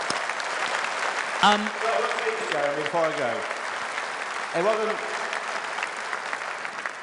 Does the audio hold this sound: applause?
yes